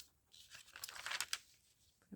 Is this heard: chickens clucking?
no